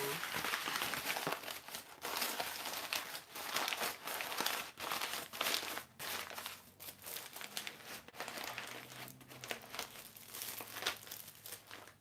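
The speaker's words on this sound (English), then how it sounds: "Cover that back up with the tissue paper." Tissue paper is handled and crinkled near the microphone in a dense run of crackling rustles while small treat pieces are wrapped, and a voice speaks now and then over it.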